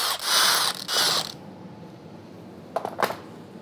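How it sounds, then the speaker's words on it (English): A ratchet clicks out T40 Torx bolts from the cam cover plate of a GM 5.3L L83 or 6.2L L86 V8 during engine teardown, two bursts of rapid close clicking followed by a few lighter metallic ticks. "Remove the 4 T40 Torx bolts holding in the cam cover plate."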